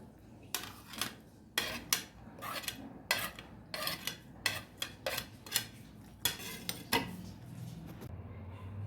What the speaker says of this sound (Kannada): ಈಗ ಅದರಲ್ಲಿ ಹಾಕಿ ಎಲ್ಲ ಮಿಕ್ಸ್ ಮಾಡೋಣ